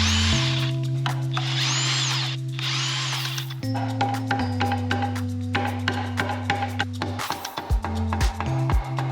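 A power tool spins off bolts from the intermediate case of a Ferrari 328 engine in bursts of steady whirring, each run stopping and restarting, close up, with clanks from parts between runs.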